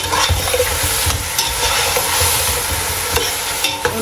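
Turkey stew with carrots bubbles over high heat while it is stirred, giving a steady loud sizzle and frying hiss with scraping under it and no talking.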